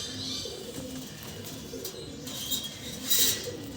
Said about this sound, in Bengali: দেখেন কত সুন্দর ঘুঘু পাখিগুলো।